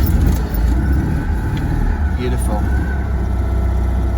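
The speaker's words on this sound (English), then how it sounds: "let's start this car for the penultimate time." A Citroën 2CV running steadily at idle, a loud, continuous low rumble with no clear starting crank. A brief spoken word is heard over it.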